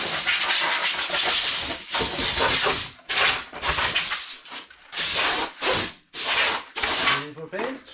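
A spray gun applies epoxy primer to the doors of a 1988 Casalini Sulky, giving loud, close hissing bursts of several seconds each, separated by short pauses as the trigger is released.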